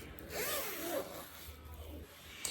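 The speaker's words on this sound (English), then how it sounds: "we're getting ready to put the zipper on" A zipper is handled and slid while sewing a pillow, giving a soft, raspy zip near the start followed by quieter rubbing and fabric handling, close and faint with no talk.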